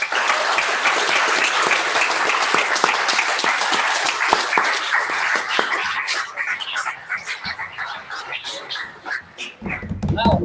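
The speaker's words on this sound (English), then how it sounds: "One more applause." An audience at a startup demo day applauds in a dense, sustained burst of clapping that thins into scattered claps, with voices murmuring underneath.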